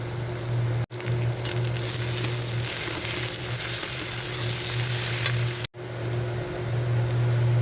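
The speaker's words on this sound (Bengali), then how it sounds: "পেঁয়াজটা ভালো করে ভাজা ভাজা হয়ে গেলে" Onions fry in a pan with a loud, continuous crackling sizzle, broken twice by brief cutoffs.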